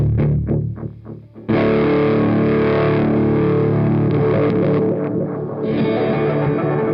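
Electric guitar played through Beetronics fuzz and chorus pedals: a few plucked notes, then a thick, saturated, swirling sustained wash with shifting modulation, loud and up close, with no voices.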